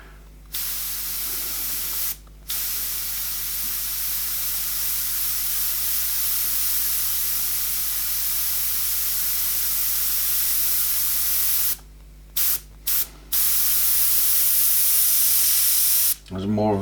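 An airbrush sprays paint while a tiger is painted, giving a loud, steady close-up hiss that cuts out briefly several times and then resumes.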